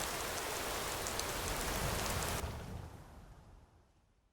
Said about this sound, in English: The rain will stop eventually.